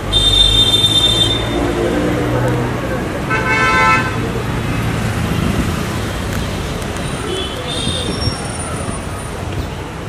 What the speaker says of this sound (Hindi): आ गई गाड़ी